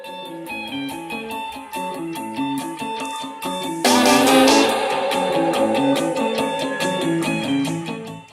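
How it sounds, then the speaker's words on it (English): Song with sampled symphony strings in the background, a plucked melodic line and chords stepping steadily, then fuller and brighter from the midpoint, loud and continuous. "you could hear some strings in the background"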